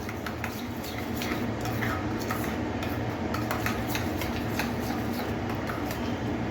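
A spoon stirs bread pizza batter seasoned with chili flakes in a bowl, giving soft, steady, close-up clinks and squelchy scraping at a quick, even rhythm.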